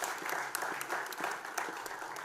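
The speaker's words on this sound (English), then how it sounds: "Please, huge round of applause for Dee." Audience at a sports awards night applauding an honoree, a modest roomful of clapping with crisp individual claps standing out from a steady background patter.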